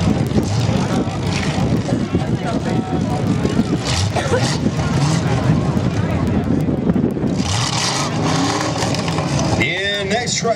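A 1973 GMC Sierra demolition derby truck, number 52, driving at a Lloydminster Colonial Days demo derby, its engine roaring steadily and loud under wind noise, with an announcer talking over it.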